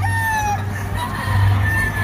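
Gamefowl rooster, a yellow-legged pea-combed light-side bulik, crowing close by at a gamefowl farm, a steady tonal call over constant low farm hum.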